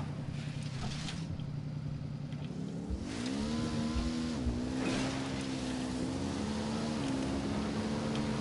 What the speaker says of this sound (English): And George H.W. Bush does a wheelie and he's out of here.